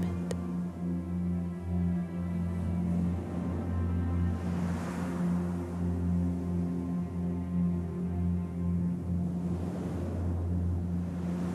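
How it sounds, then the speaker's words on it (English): Ocean waves surge and wash in slow, soft swells under a steady low drone, a faint, continuous surf with no voices. "gently bring your focus back to the sound of the waves"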